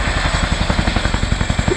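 A military helicopter from the Joint Helicopter Support Squadron performs a role demonstration at the RIAT air show, its loud, steady rotor chop beating rapidly and evenly close by, with no talk over it.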